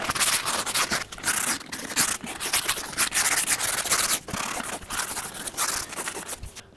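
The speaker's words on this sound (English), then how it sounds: "So every edge gets rubbed down by hand, then filled, then rubbed down again" Edges of MDF panels are sanded by hand, producing close rhythmic rasping strokes in repeated back-and-forth bursts with short pauses between, no talk.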